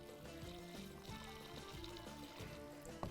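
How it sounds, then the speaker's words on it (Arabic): Water poured into a cooking pot while making laban stew (shakriyeh), a quiet steady trickling stream with soft splashing, heard close in a home kitchen. "هلا بالمرحلة هاي بننزل المي"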